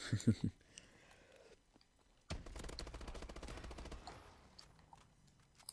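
Automatic gunfire from the video game Call of Duty Advanced Warfare: a short burst of shots at the start, then a dense, steady rattle of rapid fire lasting about two seconds before fading to quieter game noise.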